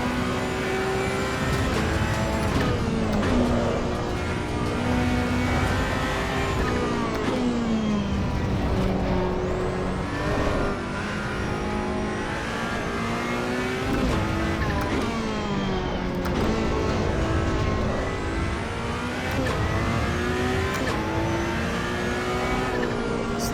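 A Ferrari 488 Challenge Evo race car in AC Evo on the Nürburgring Touristenfahrten circuit: a loud, continuous engine roar that climbs through the revs, with repeated gear shifts and lifts and no talking.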